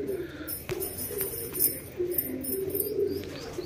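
Madrasi pigeons coo in low, rolling murmurs at a Kolkata pigeon seller's, steady and fairly close, with faint chirps and a soft flutter among them.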